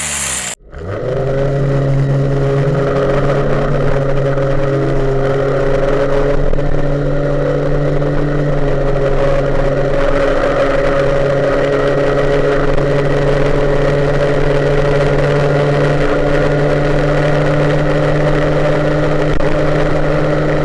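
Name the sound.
MBK 51 moped engine running with SHA air filter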